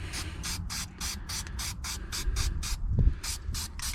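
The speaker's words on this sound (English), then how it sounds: "I just have this Rust-Oleum rust reformer. We'll see if it helps." Rust-Oleum rust reformer sprayed from an aerosol can onto rusty spots on a 2017-2019 Ford Super Duty truck bed, in about a dozen short, evenly spaced hissing bursts close to the mic.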